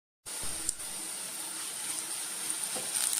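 Onions sautéing in a pan for a masala, a steady soft sizzle that starts suddenly and holds evenly at low volume throughout, with no talking.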